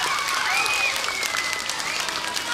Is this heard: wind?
no